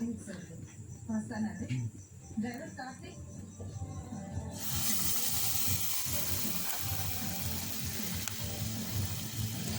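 Ajwain leaf bajji drop into hot oil, and a sudden loud, dense frying sizzle bursts in and then continues steadily. Before it starts there are quieter kitchen sounds and someone talking.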